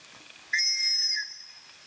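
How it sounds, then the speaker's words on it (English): A small survival whistle on a TOPS Knives BOB bushcraft knife sheath gives one loud, shrill, steady blast of about three quarters of a second, then fades into a quieter tail, heard alone. "Comes with this little whistle right here"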